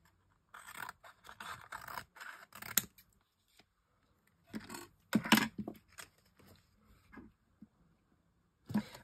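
Scissors cutting a piece of material from the bottom make clustered snips and rustling scratches close by, several short bursts separated by quiet pauses while it is handled.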